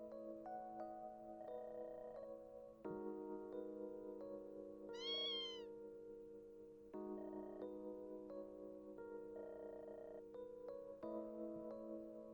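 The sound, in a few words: cat meowing in video game Tokyo Xanadu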